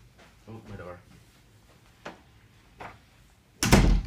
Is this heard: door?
yes